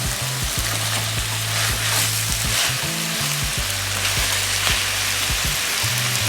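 Flank steak frying in sauce in a hot wok gives a steady, loud, broadband sizzle with crackling spatter, while a low intermittent hum and a few stirring scrapes sit underneath.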